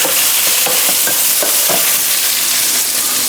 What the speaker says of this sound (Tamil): கொஞ்சம் நல்லா வந்து வெங்காயம் வதங்கணும்